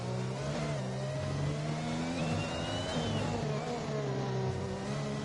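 A Formula 1 race car driven by Lando revs hard at close range, a loud continuous engine whine that climbs and shifts pitch as it passes, with no talk.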